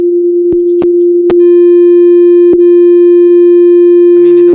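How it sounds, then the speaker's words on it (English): Sine wave synthesizer tone run through saturation, a loud steady pure pitch that gains a stack of added harmonics partway through, broken by a few sharp clicks, with faint speech near the end. "it doesn't sound very good with a sine wave, to be totally honest with you, but it's more or less just to show you the harmonics"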